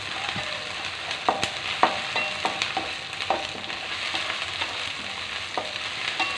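Onions with ginger-garlic paste and a little salt sautéed in a pan for puffed-rice susla, a steady close sizzle broken by repeated scraping clicks of the spatula stirring.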